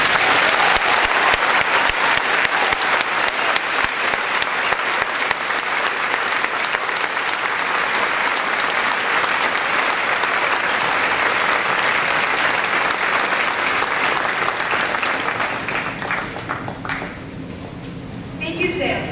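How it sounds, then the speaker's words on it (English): A large crowd at the Poland Regional High School 2018 graduation applauds the graduating class: loud, dense, sustained clapping that carries on evenly before thinning out near the end. "join me in one giant round of applause for the Poland Regional High School class of"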